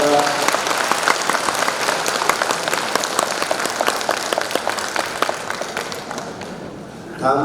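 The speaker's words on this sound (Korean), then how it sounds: "모두 큰 박수 한번 부탁드리도록 하겠습니다" An audience at a pharmacists' association event in Jeollabuk-do gives loud, sustained applause, dense clapping that eases slightly before a voice returns at the end.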